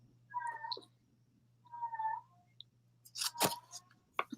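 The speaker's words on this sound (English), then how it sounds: "Can you hear that cat?" A house cat named Boots meows twice in short, soft calls a second apart, followed by a louder cluster of rustling, crunching noises close by in a quiet room.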